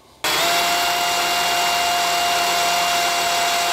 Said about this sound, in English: you can see the swarf coming out either side as it drills in